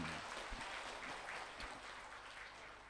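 Audience applause during a spiritual lecture, a steady roomful of clapping that holds throughout with a few louder close claps early on, and no speech over it.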